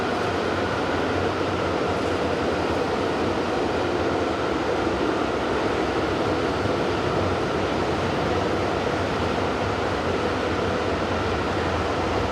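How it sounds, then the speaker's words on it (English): An electric locomotive of class 145 hauls a northbound freight of Audi cars in the Rhine Gorge. It makes a steady, loud, broadband roar of passing wagons that holds constant throughout. "145019 heads a northbound train of Audi cars at just before 9:30"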